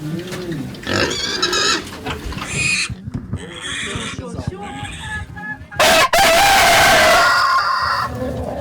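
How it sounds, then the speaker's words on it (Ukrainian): Pigs squeal and grunt among clucking chickens on a small poultry and pig farm, with a sharp crowing rooster near the end; a lively, noisy farmyard with loud bursts. "в пансіонаті створили невеликі птахо і свиноферми"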